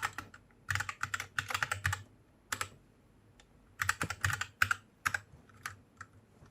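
Quiet keystrokes on a computer keyboard come in quick bursts of typing separated by short pauses, close and clear with no talking.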